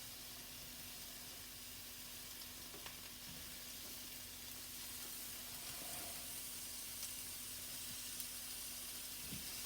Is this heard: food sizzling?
yes